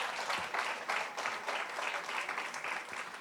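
Audience at a water and agriculture conference applauds round-table participants, a fairly faint, moderately sized round of clapping in a hall that continues evenly for a few seconds.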